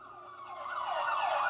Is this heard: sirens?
yes